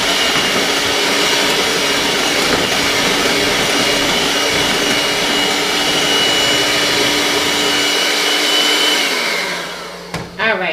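An electric mixer whirs loudly and steadily as it blends pineapple upside-down cake batter, running nearly ten seconds before winding down and stopping with a couple of light knocks.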